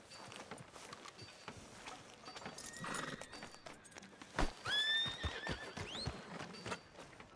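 A horse whinnies loudly with rising, rippling cries, amid hoof clip-clops and a busy game soundscape in Red Dead Redemption 2.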